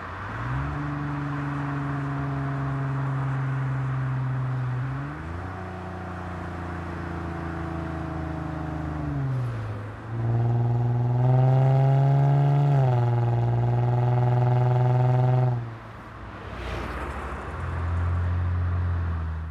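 A Lexus IS250/IS350 with an automatic transmission downshifts repeatedly, the engine note jumping up with each shift and holding loud, sustained revs that rise and fall through several steps, heard close from inside the car with no talk.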